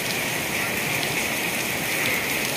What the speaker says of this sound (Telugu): నాకు తెలిసి మీకు వర్షం చప్పుడు వినిపిస్తుంది అనుకుంటా